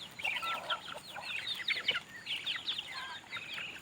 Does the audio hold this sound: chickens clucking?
yes